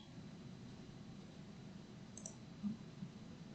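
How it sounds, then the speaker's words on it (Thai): A couple of faint, quiet mouse clicks in a WordPress/WooCommerce page editor, isolated over low background hiss with no talking. "คลิกมีเดียสองครั้ง"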